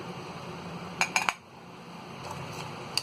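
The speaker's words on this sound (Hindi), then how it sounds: "काश्मीरी लाल मिर्च हमने इसमें डाल दी है और इसे भी अच्छी तरह हम मिक्स कर लेंगे।" A spoon clinks a few times in quick succession against a bowl while Kashmiri red chili is stirred into stuffed egg filling, then only soft faint scraping follows.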